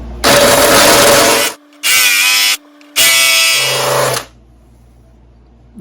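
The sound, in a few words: cordless drill with rounding bit on stuck bolt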